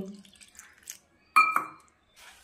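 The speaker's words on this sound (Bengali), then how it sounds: "এবার দিয়ে দেব জল। এখানে আমি পরিমাণ মতো জল দেব।" Water is poured in short splashes and drips into a bowl of flour mixture for thin pitha batter, with brief quiet gaps between pours and a faint sound of handling afterward.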